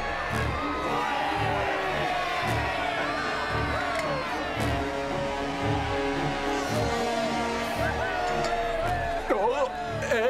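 A large crowd cheers and shouts continuously in an anime scene, a dense, steady roar of voices with whoops rising throughout, loud and close, with a brief burst near the end.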